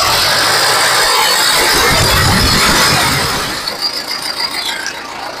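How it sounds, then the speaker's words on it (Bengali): A second-hand tractor engine runs just after starting, a loud close mechanical clatter and rattle that eases to a rougher, quieter idle toward the end. "তো বন্ধুরা ট্রাক্টরটি স্টার্ট দেওয়া হয়েছে"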